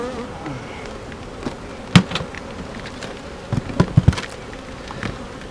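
Honeybees buzzing around a beehive on a farm, a steady low hum with faint scattered buzzes and a few brief louder bumps and knocks close by.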